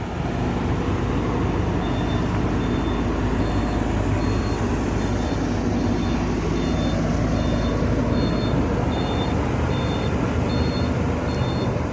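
Hidromek HMK230 LC excavator working on a laterite dirt site, a loud continuous diesel engine drone with hydraulic strain and a repeating series of high alarm beeps running through it, no talk.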